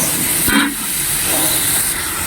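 Meat marinated in light soy sauce and white pepper sautés in a pan at home, a loud, continuous broadband hiss. A sharper sizzling burst flares briefly early on before it settles back to a steady sear.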